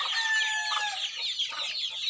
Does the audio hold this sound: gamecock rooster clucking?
yes